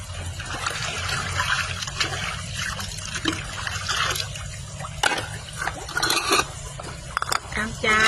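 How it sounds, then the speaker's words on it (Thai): Water runs and splashes steadily while dishes clink and clatter now and then, with voices talking in the background. "ล้างถ้วยล้างจาน"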